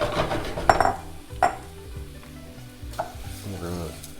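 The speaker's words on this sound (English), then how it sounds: "We're going to stir that, make sure every single piece of that rice gets coated with butter and oil, and just let it go on about medium-low heat until it slightly browns" Arborio rice stirred and toasting in butter and oil over medium-low heat, a soft sizzle under several clinks and scrapes of a spoon against the pot, close and moderately loud.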